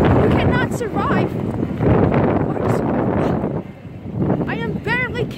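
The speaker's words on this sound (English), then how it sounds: "Wind is like 50 miles per hour." Strong wind of around 50 miles per hour in a snowstorm roars and buffets the microphone in a loud, continuous rush, while a person talks throughout.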